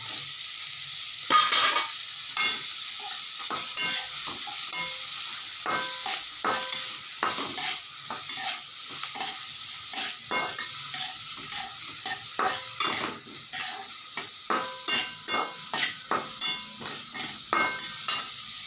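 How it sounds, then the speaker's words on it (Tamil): Onions and tomato sautéing in a pan for coriander sambar, a steady sizzle broken by frequent sharp scrapes and taps of a spoon stirring against the metal, growing more rhythmic toward the end. "அப்புறம் தக்காளி போட்டு வதக்கணும்"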